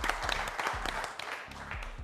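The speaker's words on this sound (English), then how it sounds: "Let's give a huge round of applause, ladies and gentlemen." Audience clapping on a live studio broadcast, moderately loud applause with some individual claps standing out, mixed with low rumbling and brief voice-like sounds underneath.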